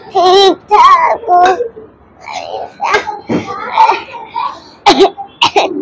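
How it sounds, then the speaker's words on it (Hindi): An elderly woman coughs and clears her throat several times in loud, close bursts, mixed with short vocal sounds and with quieter murmuring between them. "बहुत खांसी आ रही है"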